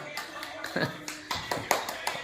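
Irregular hand claps, sharp and close, mixed in with people talking and cheering at a lively birthday celebration indoors.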